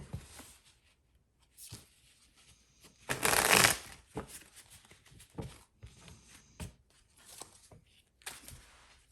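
Mini tarot cards are shuffled by hand in short bursts of riffling and sliding, with one louder flurry in the middle and several softer pats and flicks around it, nearby and clear.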